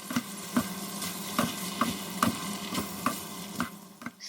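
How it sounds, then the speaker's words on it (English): Drunken noodles (pad kee mao) being stirred in a hot pan, with regular scraping strokes about every half second over a steady sizzle, close and moderately loud, with no talk. "Stir again for a few times"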